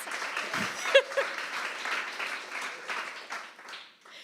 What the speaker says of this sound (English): here is your applause.